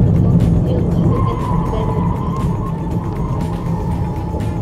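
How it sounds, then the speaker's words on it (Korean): An electric Mini Countryman gives loud, steady tire roar and road rumble while driving, with a faint whine and wind rushing around the car; the level stays constant. "아까 에이스맨보다는 한참 낮은 속도인데 타이어가 훨씬 더 요란하게 울부짖네요."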